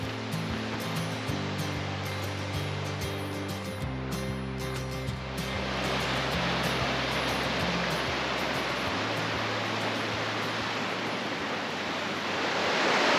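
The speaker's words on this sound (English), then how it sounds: "walk among these granite walls and listen to the creek right beneath us." Creek rushing through the granite walls of Flume Gorge in Franconia Notch, a loud steady roar of water heard alone, with low mechanical tones in the first seconds.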